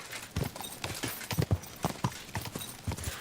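Horse hooves clip-clop in the video game Kingdom Come: Deliverance 2, a quick, close series of rhythmic hoofbeats in a short burst with no talking over them.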